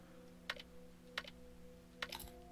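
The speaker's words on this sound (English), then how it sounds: "Look at me typing away." A computer keyboard is typed on in the Camp Sunshine horror video game, three short bursts of quick clicking keystrokes spaced about a second apart over a steady low electrical hum, with no one speaking.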